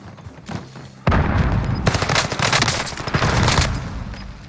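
Warzone combat: a loud frag grenade blast erupts after a quiet start, followed by sustained close bursts of automatic gunfire and heavy impacts that stay loud to the end, with no talking over it.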